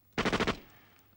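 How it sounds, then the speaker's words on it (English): Short cartoon burst of rapid gunfire, five quick punchy shots in a tight rhythm, fairly faint and alone, fading out quickly. "Gunshots!"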